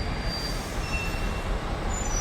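Steady rail noise at the train station in Schaan, Liechtenstein, a continuous low rumble with faint high wheel squeal lines running throughout, fairly loud and without voices.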